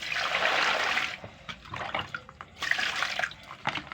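Cassava is rinsed under running water, a strong close gush of water at first, then intermittent splashing and handling noises as the roots are washed.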